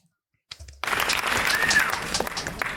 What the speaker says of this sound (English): Both you guys deserve better applause.